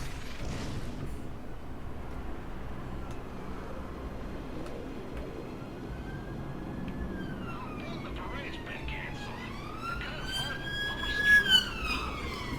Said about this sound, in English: I just heard an ambulance drive by.